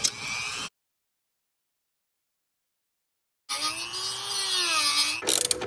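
A power tool cuts through a bent, tweaked bolt on an off-road vehicle, a steady rising and falling whine that starts after a silent gap and runs on loudly to the end with a brief rattle.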